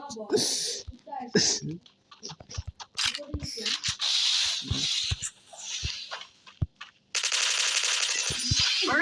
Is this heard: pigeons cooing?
no